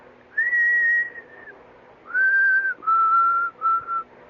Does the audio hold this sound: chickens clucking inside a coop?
no